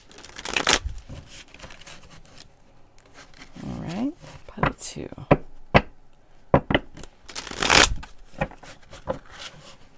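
Tarot cards are shuffled by hand in irregular riffles and soft slaps, with a few sharper taps, while a voice speaks briefly over the handling.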